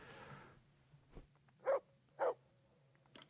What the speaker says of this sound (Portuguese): Para de latir, pulguento,